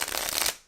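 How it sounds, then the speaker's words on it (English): A deck of novelty playing cards being shuffled, a dense burst of riffling card flutter lasting about half a second, then fading quickly. "What happens if you shuffle?"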